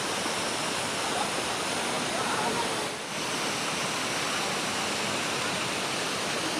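Hot water from the Pancuran 13 natural hot spring spout at Guci, Tegal, pours in a steady, close, continuous rush, with one brief dip midway.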